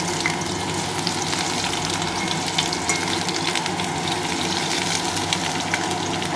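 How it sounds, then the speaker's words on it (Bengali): Potatoes fry in leftover fish oil in a wok, giving a steady close sizzle and crackle with small pops throughout and no talking. "এই তেলে আমি ভেজে নেব আলুগুলো একটু লাল লাল করে ভেজে নেব"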